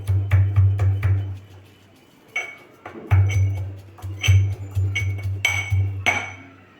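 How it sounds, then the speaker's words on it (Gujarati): A spoon clinks repeatedly against a bowl while crushed garlic chutney with salt and Kashmiri chili is mixed, giving sharp, close taps in quick bursts with short pauses between them. "વાટીને મિક્સ કરી લઈશું"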